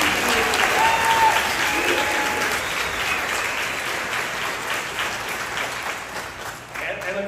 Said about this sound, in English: Can we give the Regatta crew a round of applause?